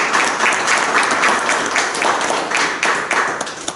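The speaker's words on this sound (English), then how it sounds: "So if you all could just give them a round of applause." Lively applause from an audience at a town hall meeting fills a few seconds with dense, steady clapping from many hands, fairly close and loud.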